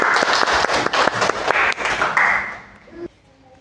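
Clapping from a classroom of students fills the first two and a half seconds, dense and close with a few sharper claps, then fades out quickly.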